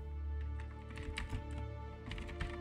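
Fingers type on a computer keyboard in a quiet room, a quick, uneven run of soft key clicks lasting a couple of seconds.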